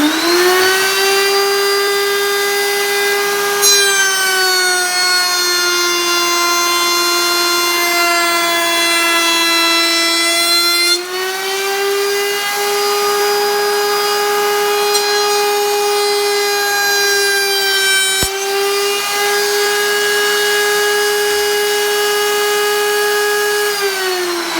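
A Skil fixed-base router mounted in a Bosch router table cutting wood gives a loud, steady, high-pitched motor whine that holds for the whole stretch, with a slight shift in pitch partway through as the load changes.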